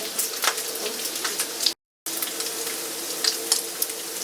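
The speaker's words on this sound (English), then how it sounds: "Cook your bacon till it's desired doneness." Bacon frying in a pan on a home stove for breakfast gives a steady dense crackling sizzle with scattered pops, broken by a brief silent gap, with no talk.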